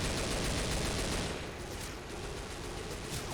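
Sustained rapid gunfire from a Left 4 Dead 2 match fills the whole stretch, dense and loud with overlapping bursts that ease slightly midway, no talk over it.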